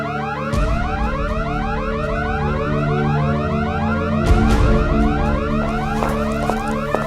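Several perimeter alarms blare at once in a secured building, repeating rising electronic sweeps that overlap into a loud, continuous wail, with a low rumbling thump partway through.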